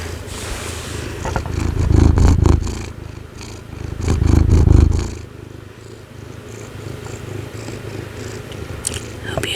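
Cat purring up close in a quiet indoor setting, two rumbling swells of purr rising and fading, followed by softer rustling and low hum.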